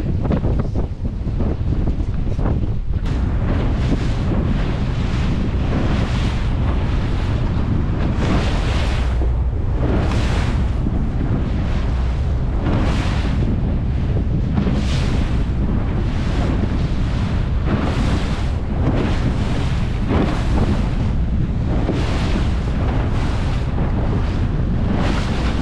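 Wind roars steadily at the microphone aboard a fishing boat on the Barents Sea, while waves surge and crash in a regular rhythm every second or two, loud and close throughout.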